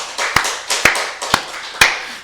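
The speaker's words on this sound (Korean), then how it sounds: "우리 박수를 하나님께 영광 드리겠습니다." At a Korean Full Gospel church Wednesday service, the congregation claps in unison in praise, giving four loud, crisp claps spaced about half a second apart in a steady rhythm.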